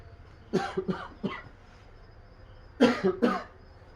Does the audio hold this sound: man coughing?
yes